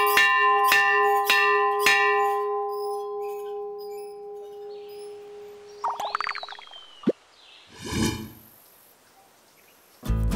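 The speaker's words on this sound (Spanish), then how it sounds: "tengo que tocar esta campana" A hand bell at a door in Campeche, Mexico, rings four times in a steady rhythm, bright ringing tones that linger, followed by some shuffling, clunks and handling noises.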